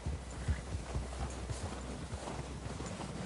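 Horse hooves clip-clop at a steady walking rhythm in the video game Red Dead Redemption 2, close and fairly quiet, with no voices over them.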